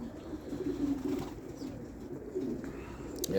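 Gdańsk Falcon homing pigeons, female racing birds, coo softly and continuously inside an aviary, several low murmuring calls overlapping at close range.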